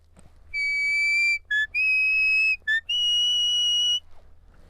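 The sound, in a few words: sheepdog whistle playing a little song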